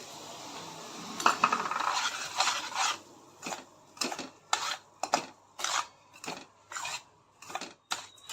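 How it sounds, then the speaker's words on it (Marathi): Semolina roasting in ghee in a metal pan while being stirred, with a spoon repeatedly scraping and clinking against the pan in irregular strokes, close and clear with no talking. "आधी आपल्याला रवा भाजून घ्यायचा आहे।"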